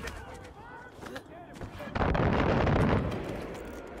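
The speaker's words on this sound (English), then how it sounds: "Go run towards the mortars." Mortar rounds land during a Far Cry 5 battle, giving a heavy, rumbling blast about halfway through that rolls on for a second or more, after distant booming and a voice talking.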